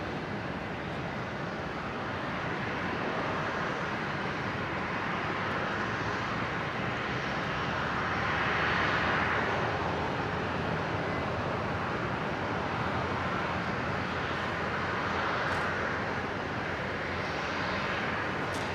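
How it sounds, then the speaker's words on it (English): A Qantas Link Embraer airliner arrives at Brisbane airport; a loud, steady, broadband jet roar fills the whole stretch, swelling slightly midway, with no voices. "another Embraer. It's just arrived from Newcastle down in New South Wales."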